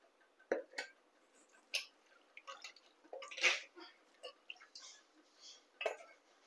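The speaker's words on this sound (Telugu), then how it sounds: "ఫస్ట్గా వీటిలో కుక్కర్లో వేసేస్తున్నాను" Soaked chickpeas drop into a metal pressure cooker in a run of scattered clinks and wet taps, some sharper than others, set against a quiet background.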